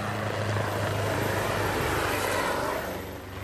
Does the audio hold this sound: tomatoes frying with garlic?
no